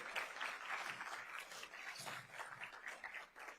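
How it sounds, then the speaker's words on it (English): Sustained applause from a crowd at the 2025 Anti-Monopoly Summit, steady dense clapping throughout with a few cheers mixed in. "That's time for applause."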